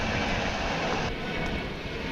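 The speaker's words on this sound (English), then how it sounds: "That one's taken off from the east side of DFW" A Spirit Airlines jet on its takeoff run from the east side of DFW airport gives a steady, broad engine roar that holds loud and continuous throughout, with no voices.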